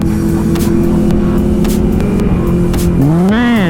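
2020 BMW S1000RR motorcycle accelerating hard with its quick shifter, a loud close engine note holding steady and then climbing in pitch as it pulls through a gear change.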